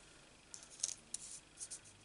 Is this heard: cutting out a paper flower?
yes